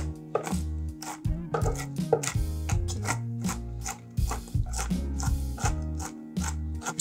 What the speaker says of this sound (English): Just use a sharp knife or whatever, and you can just kind of chop them.